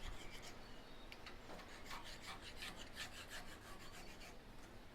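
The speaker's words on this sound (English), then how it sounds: "I'm just going to rub the burr off, which is what I was feeling for." A fine file rasps across a stainless steel cooker door handle to rub off the burr, a steady run of short scraping strokes, quiet and close with no talking.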